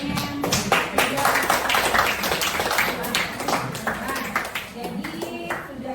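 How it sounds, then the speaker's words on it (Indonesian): A classroom of students claps for their classmates, the uneven patter rising and thinning over several seconds with talk and room noise underneath. "Silakan tepuk tangan pada temannya yang sudah."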